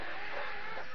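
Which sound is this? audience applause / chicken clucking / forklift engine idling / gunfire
chicken clucking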